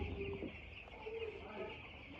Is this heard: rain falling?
no